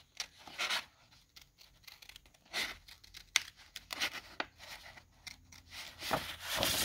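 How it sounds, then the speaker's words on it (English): Small scissors trim the plastic window out of a junk mail envelope with quiet, close snips and papery rustles that come in irregular bursts, with no talking. "I'm going to use these smaller scissors to go inside and trim this"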